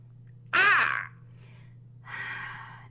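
A person mimics a bird call with a loud, high, warbling squawk, followed after a pause by a second softer drawn-out cry, over a steady low hum.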